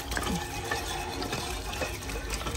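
Water running steadily from a pump in an outdoor play area, a broad continuous gush and splash that stays fairly loud and even throughout, with no voices over it.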